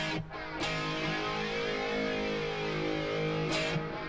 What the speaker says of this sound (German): den Sound jetzt wiederum, den Flanger, den kennst du auch